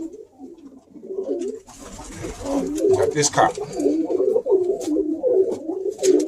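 Red grizzle racing pigeon cock cooing steadily in a loft, repeated throaty coos close by, with someone speaking over parts of it.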